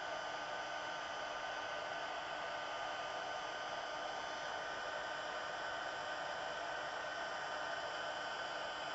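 An embossing heat tool blows steadily over a card, melting white embossing powder for a snowy pine scene; a continuous, even dryer-like whoosh holds throughout at moderate level with no talk.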